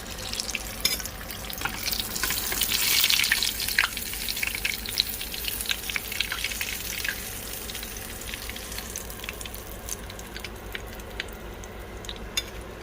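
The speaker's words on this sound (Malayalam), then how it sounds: "അപ്പോൾ നമുക്ക് ഇതേപോലെ എല്ലാ പീസും വറുത്തെടുക്കാം." Pieces of fish frying in hot oil in a pan, a continuous crackling sizzle with scattered sharp pops and spits, loudest early and then settling to a steady hiss, with no talking.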